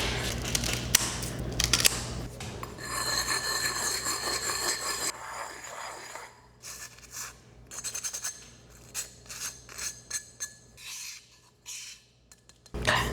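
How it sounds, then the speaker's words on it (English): A ceramic jar is sanded beside a nail dust collector, with rough rasping strokes, first continuous, then broken into short uneven bursts over a low steady motor hum, close by and without talking. "I'm gonna be sanding a jar."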